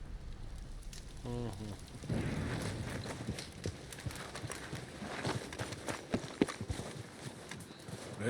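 Horse hooves clip-clop in the video game Red Dead Redemption, a steady series of thuds close by, mixed with crackling ambience and a brief voice early on.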